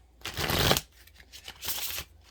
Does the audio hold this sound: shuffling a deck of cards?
yes